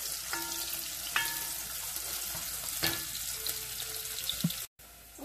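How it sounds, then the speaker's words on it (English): About a third of a cup of onions sautéing in a pan for keema aloo, a soft continuous sizzle with a few light clicks, close but quiet, no talking. "I'm just gonna let this toast here and saute for"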